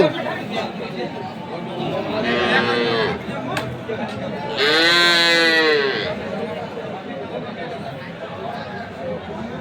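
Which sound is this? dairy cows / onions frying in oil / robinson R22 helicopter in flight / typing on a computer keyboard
dairy cows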